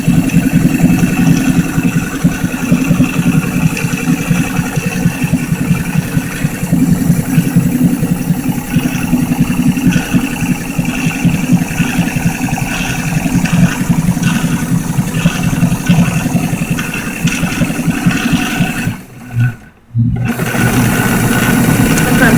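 A Sears Kenmore or 1949 Singer sewing machine whirs steadily and close for about twenty seconds, with a fast mechanical patter. It cuts off briefly near the end and then resumes.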